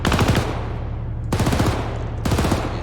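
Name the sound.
gun firing in video game Arma 3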